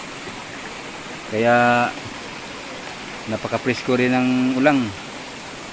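A rocky, clear river stream flows in a steady broadband wash, with a voice speaking over it in two stretches.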